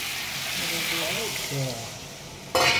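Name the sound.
stirring and sautéing food in a pan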